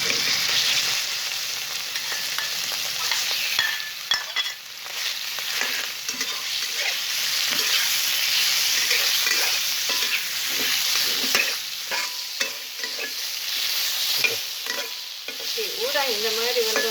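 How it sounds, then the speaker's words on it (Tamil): Prawns fry in hot oil in a pan, giving a loud, continuous crackling sizzle that runs throughout with occasional stirring clinks and scrapes. "இப்போ எண்ணெய் சூடாச்சு, இந்த ஊடனை வந்து போட்டு வறுக்கலாம்."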